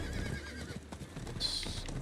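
A horse in the video game Diablo IV whinnies, then its hooves clip-clop along. The sounds are close and moderately loud, with a brief high neigh near the end and no talk over them.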